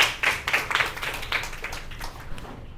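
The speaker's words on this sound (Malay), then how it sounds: "berikan tepukan untuk kawan-kawan kita" Schoolchildren in a secondary-school Malay language class clap for their classmates, a short burst of close, uneven hand claps that quickly fades and trails off into quiet.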